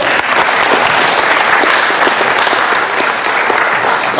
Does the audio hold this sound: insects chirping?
no